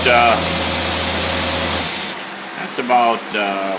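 A Cadillac engine with a Carter AFB carburetor roars loudly and close for about two seconds, then cuts off sharply, and someone speaks in the quieter remainder.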